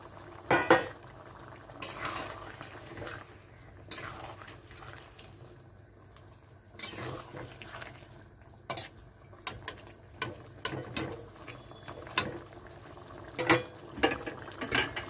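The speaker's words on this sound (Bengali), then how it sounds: "ঝোলটা ফুটে গেছে তো ওখানে ভেজে রাখা মাছটা দিয়ে দিচ্ছে" A pot of Bengali curry broth is boiling on the stove with fried magur catfish added, giving a steady low bubbling broken by scattered clinks and scrapes of a utensil against the pan. No one speaks.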